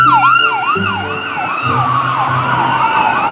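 Toy ambulance siren wailing in a steady repeating up-and-down pattern, loud and close, with a low electronic tone pulsing underneath and no talking.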